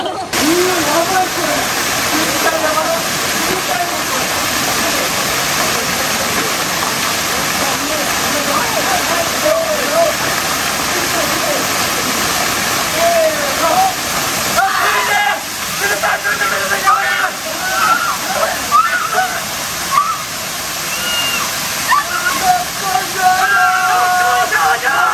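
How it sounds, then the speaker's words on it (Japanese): A powerful waterfall in Kamiichi, Toyama, Japan roars steadily and loudly throughout, a thick wash of rushing water with faint voices occasionally audible beneath it. "滝が見えました。 強い強い滝の。"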